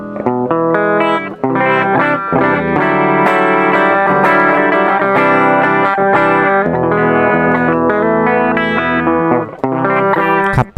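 A loud electric guitar through a Free The Tone Silky Groove compressor pedal strums dense chords with an even, squeezed sustain and slight grit, playing continuously with brief pauses.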